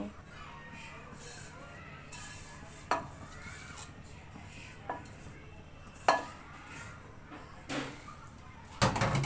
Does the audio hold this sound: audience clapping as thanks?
no